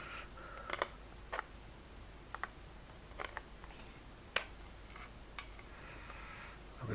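Cutters snip plastic model parts of a tiny Bandai Millennium Falcon kit off the sprue, giving a few sharp, quiet clicks spaced irregularly over a low hiss.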